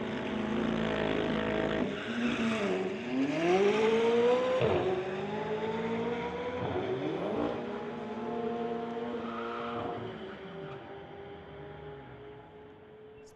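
A McLaren sports car launches down a street-legal drag strip, its engine roaring loud and close and climbing through several sharp upshifts before the sound thins out as the car pulls away.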